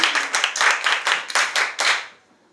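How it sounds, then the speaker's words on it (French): A classroom of students claps for a classmate in short, rhythmic bursts of applause, loud and close, before fading out into quiet. "Applaudissez pour lui."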